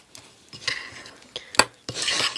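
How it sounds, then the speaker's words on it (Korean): Spoon stirring a homemade chocolate mixture with white powder in a bowl, giving close scraping, rasping strokes in uneven bursts with short pauses, no talk. "흰 색깔 분말이 보이지 않도록 이거를 저어주세요"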